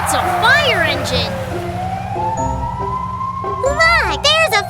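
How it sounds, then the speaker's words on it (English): A cartoon fire engine siren wails with rising and falling sweeps over a steady engine rumble, loud and close, while cartoon voices and chirpy effects play around it. "Wow, it's a fire engine."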